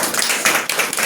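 An audience at a Buddhist vihara gathering in Amravati claps together, a short dense burst of applause close by with no talking over it.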